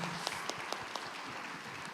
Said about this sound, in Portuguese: Vamos dar uma salva de palmas pro Arthur e pra Paloma aí, né, gente?